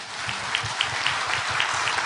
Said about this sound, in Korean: 각 감독님에게 뜨거운 박수를 부탁드립니다